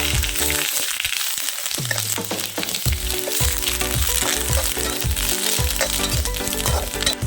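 Curry leaves sizzle and crackle in hot oil, a steady frying hiss broken by rhythmic scraping as they are stirred in the pan.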